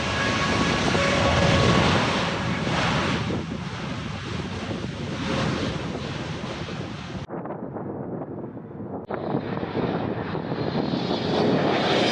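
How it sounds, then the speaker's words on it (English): Boeing 777X test aircraft taking off or landing at the Everett factory, a loud sustained roar of jet engines buffeted by heavy wind noise, cutting out briefly before surging back. "I was fortunate enough to witness both takeoff and landing of a test aircraft."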